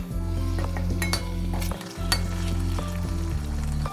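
Rice flour pitha batter mixed with fennel and sugar frying in hot oil, a steady close sizzle running throughout with a low hum and occasional metallic clinks of a utensil.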